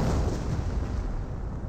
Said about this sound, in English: Did that artillery shot just took out both of those snipers?